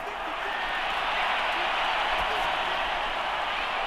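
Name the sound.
crowd applause in a Madden NFL video game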